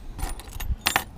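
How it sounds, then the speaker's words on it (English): An old flat house key tossed into a jar of loose keys outdoors, giving a bright metallic jangle followed by two sharp clinks as the keys settle. "I'm going to put that in the jar."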